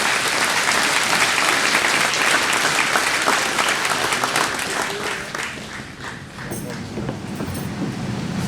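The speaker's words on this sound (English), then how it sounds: "Let's get one more round of applause for each of the nominees for Large Business of the Year." Loud, sustained applause from a large audience at a chamber of commerce awards gala, honoring business award nominees; dense clapping fills the room and eases slightly toward the end before picking up again.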